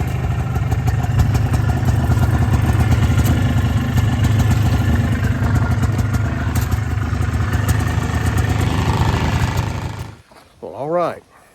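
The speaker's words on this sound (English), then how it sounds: "I drug it over here with my four-wheeler, which is awesome to have, using my tow strap" A four-wheeler ATV engine runs loud and close, used to tow a load with a tow strap. It holds a steady, rough idle for about ten seconds, then cuts off abruptly.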